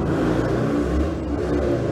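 A motorcycle engine in the video game Maple Star revs with a steady loud droning roar, close and continuous.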